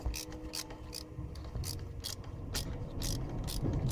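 A ratchet driving in bolts on a P2015 intake-manifold repair bracket after the V157 sensor is removed gives a steady run of sharp, close clicks at a brisk, even pace, alone with no talk.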